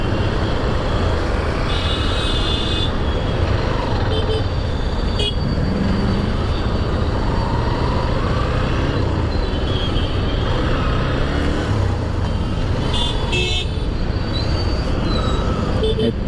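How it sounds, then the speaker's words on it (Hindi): Dense Bangalore road traffic from a moving motorbike, with a steady engine and wind roar and occasional horn toots scattered through it, loud and continuous. "इतना ट्रैफिक रहता है, दिमाग ही ख़राब हो जाता है गाड़ी चलाने में।"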